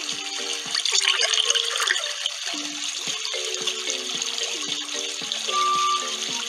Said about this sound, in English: That egg held the right amount of water to fill that hole.